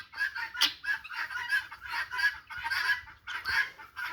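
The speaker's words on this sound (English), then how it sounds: "since the other birds have started coming around here, we get these sounds all day long." Noisy chickens cluck and call nearby in a busy, repeating chorus of bursts, loud and close, with several birds overlapping throughout.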